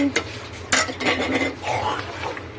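Khichuri with cauliflower and potato is stirred in a wok, a spoon scraping and clinking against the metal over a light sizzle, close and fairly loud, with a sharp knock near the start.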